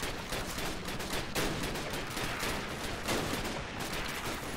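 Sustained, loud enemy gunfire rattles without pause in the World War II shooter Call of Duty: United Offensive, with overlapping rapid shots and no voices.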